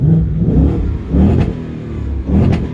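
A Ford Mustang GT 5.0 V8 with the exhaust in track mode revs three times in quick succession, deep and throaty, each blip rising and falling back to a rumbling idle.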